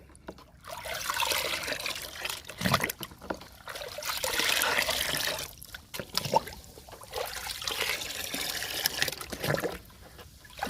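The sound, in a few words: stirring aloe vera paste into water in a bucket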